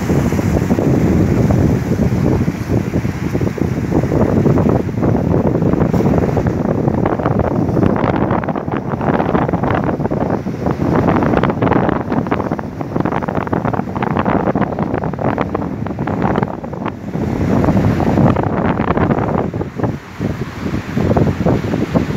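Rough, heavy sea waves surge and crash at Mohammedia on the Moroccan coast, mixed with strong gusting wind that buffets the microphone in a loud, continuous roar.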